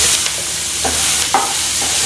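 Onions sautéing in a pan with ginger and garlic for paneer peas masala, a loud continuous close sizzle broken by a few soft stirring scrapes.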